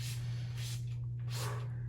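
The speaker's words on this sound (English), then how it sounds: "I'm gonna spray the still air box down again because I've been in and out of it." Ethyl alcohol is sprayed inside a still air box in three short hissing bursts, faint and close, over a constant low electrical hum.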